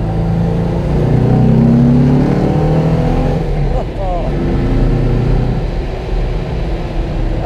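A 1958 Porsche 356 A with a 135 PS engine revs and drones loudly and steadily, its pitch rising and falling, with a voice talking over it partway through.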